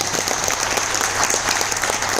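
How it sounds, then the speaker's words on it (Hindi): A crowd at a training gathering claps loudly to welcome a speaker, a dense, even burst of applause sustained throughout without pause. "सो वेलकम वर्षन सर, जोरदार तालियों से सबके लिए।"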